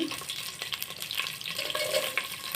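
Spices frying in a pan with ginger garlic paste, a close crackling sizzle broken by stirring scrapes and small splutters over a few seconds.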